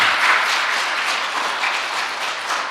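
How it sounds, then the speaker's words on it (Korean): A church congregation at a Christmas Day service gives loud, dense applause for the church school teachers and children, sustained evenly for a few seconds. "여러분들이 한번 힘찬 박수를 보내주시기를 바랍니다"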